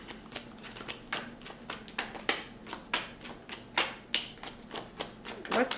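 A Moonology tarot deck is shuffled by hand in a quiet room: rapid, crisp riffling and slapping card sounds in repeated bursts, close and fairly loud, with no talk.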